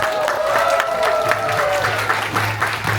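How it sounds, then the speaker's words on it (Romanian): Applause from children's parents at a school percussion session in Buzău, steady dense clapping throughout with a faint sustained tone beneath and scattered voices. "Acum aplauze de părinții voștri."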